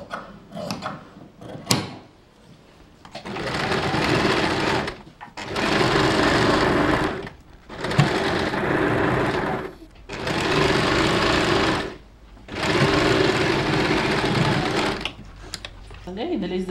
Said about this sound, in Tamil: இதில் ஜிக்ஸாக் அடிச்சிட்டோம்.